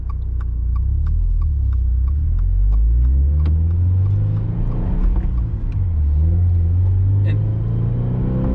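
2023 Toyota GR86 six-speed manual engine idling and revving in a few rising and falling swells, a deep close rumble with faint background talk.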